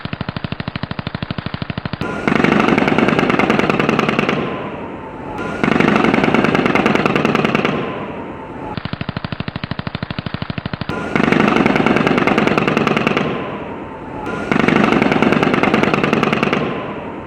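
Rapid bursts of automatic rifle fire from a Las Vegas hotel room window, loud and sustained, come in several long volleys separated by brief pauses.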